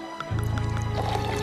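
Beer pours into a glass with a gurgling, bubbling fill that starts after a short pause and runs steadily to the end.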